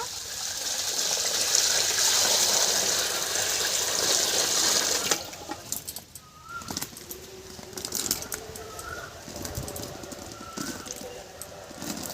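Water runs and gushes steadily over jujube (kul) fruits as they are rinsed. The rushing stops partway through, leaving quieter splashes, soft coos and chirps from birds, and distant background sounds.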